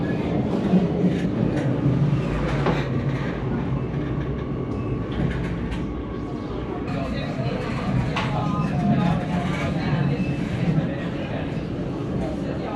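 An Oslo metro train rumbles along with a steady low roar and occasional rattles and clicks, while people talk over the ride.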